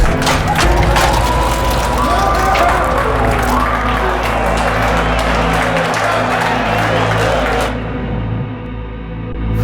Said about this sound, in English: Give a big round of applause for Mr. X!